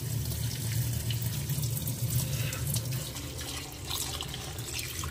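Hot water runs steadily from a tap as dried kingfish (surmai) is washed for a curry cooked over a wood-fired stove. The rushing splash is continuous, close and fairly soft, with no talking.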